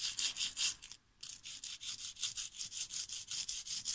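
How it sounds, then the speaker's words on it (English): A nail file rasps back and forth across a metal art piece in quick, steady strokes, with one brief pause. The scratching is near and fairly soft, and no one speaks. "I'm gonna rather use this nail file to make it, you know,"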